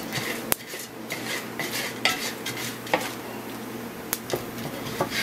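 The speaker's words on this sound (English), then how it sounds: "just to keep stirring them so you get an even roast on all the seeds" Sunflower seeds from a home garden roasting in a pan, stirred with a utensil that clinks and scrapes against the metal in an irregular rhythm, with a faint sizzle beneath and no talking.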